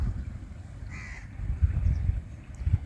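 A single bird call rings out briefly over a low outdoor rumble, then fades back into the background.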